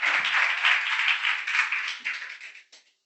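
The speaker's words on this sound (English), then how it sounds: "Yeah, round of applause." A live audience claps in a dense, steady round of applause that tapers off and stops, with a last few scattered claps near the end.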